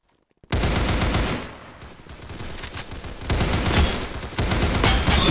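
Loud, dense bursts of rapid gunfire from a game, nearly continuous volleys with a brief lull, then heavy shooting resumes.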